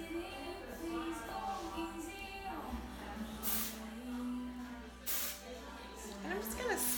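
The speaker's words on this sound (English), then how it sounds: "it's a dry powder spray, and it just puts a lot of air into the hair" Kevin Murphy Do Over dry powder hairspray gives two short, quiet hissing bursts as it is sprayed near the roots of the hair, with a voice talking throughout.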